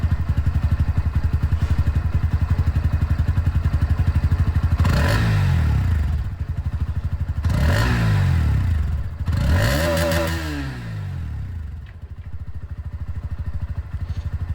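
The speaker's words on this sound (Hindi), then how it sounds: "आप लोग को एग्जॉस्ट जो है अंडर बिली देखने को मिलता है, तो इसकी जो साउंड है वो भी आप लोग सुन लीजिए।" Bajaj Pulsar NS160 motorcycle with an underbelly exhaust, engine idling steadily and then revved in three rising-and-falling bursts, loud and close, settling back to a rough idle with no talking.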